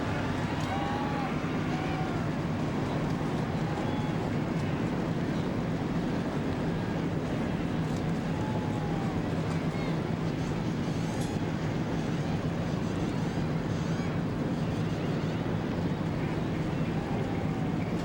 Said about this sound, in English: So 43 cars roar to life on pit road here at the Martinsville Speedway